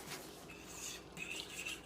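Utensil scraping and clinking against a pan while sausage gravy is stirred, light irregular strokes close by with small metallic ticks, no talking.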